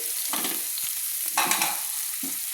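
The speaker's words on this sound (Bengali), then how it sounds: "মাঝারি সাইজের পেঁয়াজ, সেটা আমি দিয়ে দিলাম। দিয়ে একটু নেড়ে নিলাম।" Chopped onions fry in a pan with a constant crackling sizzle, broken by several scraping stirs of a spatula, close and alone with no talking.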